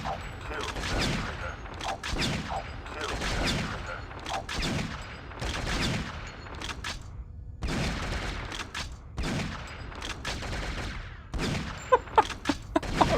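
Repeated bursts of gunfire crackle through a cutscene in the mech shooter Shogo: Mobile Armor Division, coming in dense volleys with brief gaps between them, loud and close, with a few sharp single cracks near the end.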